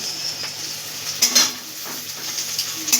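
Spices, ginger, garlic, cumin, chilli and turmeric paste, sizzle in a pan with frying bhetki fish bones under a steady hiss, with a few sharp clinks of a utensil stirring against the pan, close by.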